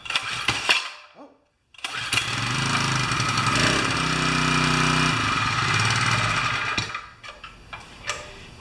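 Small pressure washer engine being pull-started, with a brief clatter, a pause, then several seconds of cranking and sputtering as it tries to catch before dying away, close to the mic.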